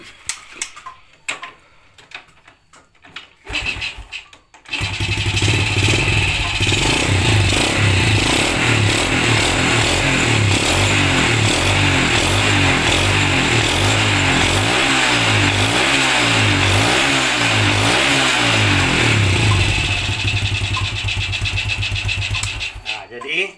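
A Yamaha Vega motorcycle with newly swapped spool wires is kicked over a few times and then catches, its engine running loud and close and revving in repeated surges before it settles toward the end.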